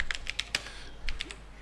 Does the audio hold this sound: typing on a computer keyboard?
yes